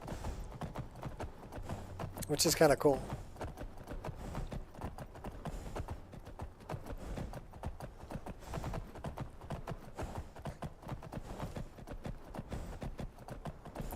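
Hooves clip-clop at a steady walking rhythm as a horse moves through modded Skyrim, faint and continuous, with a short whinny-like burst near the start and a person speaking briefly over the gait.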